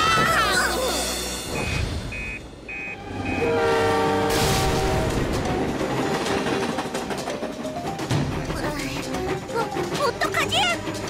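An animated cartoon plays a running train with repeated horn blasts and rhythmic rail clatter. Characters talk over it, with music and sound effects mixed in.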